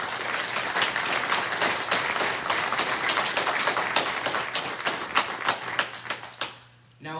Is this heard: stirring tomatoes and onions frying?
no